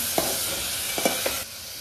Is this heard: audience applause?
no